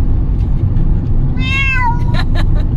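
Cat meowing during a car drive, a single drawn-out meow and a couple of short follow-up cries, close and clear over a steady low road rumble.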